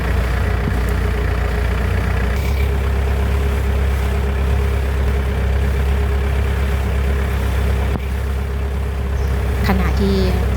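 A tour boat's engine idles and drones steadily on the River Kwai in Kanchanaburi, a loud continuous low rumble throughout, with a voice talking over it.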